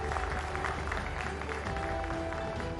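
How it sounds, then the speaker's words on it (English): Steady audience applause at a panel discussion, a dense continuous patter of clapping from a crowd, moderately loud and unbroken throughout with no talk over it. "Big round of applause for them, ladies and gentlemen."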